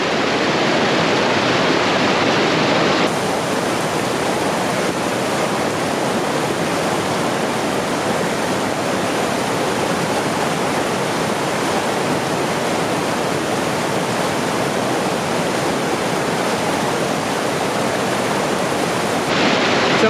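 River water rushes steadily over shallow riffles at the Falls of the Ohio, a dense, continuous broadband roar that stays loud and unbroken throughout with no voices.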